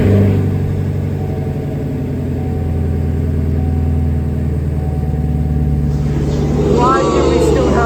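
A 2021 Camaro SS 1LE V8 runs in a garage with a steady low engine rumble, then rises in a short rev toward the end, while someone talks over it.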